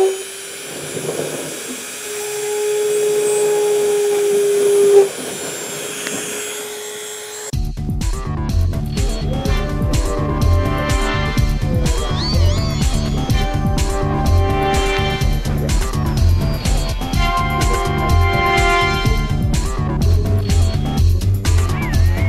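A small drill bores holes in a circuit board, a steady high whine running continuously after a brief quieter stretch with a faint tone at the start.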